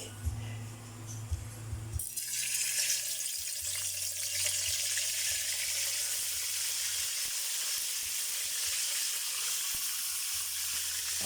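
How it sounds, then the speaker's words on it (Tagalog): Salay-salay fish fries in a pan, a loud, continuous hiss and crackle of hot oil that bursts in after a brief low hum and stays dense and close for the rest of the span. "Magpiprito na po tayo ng isda."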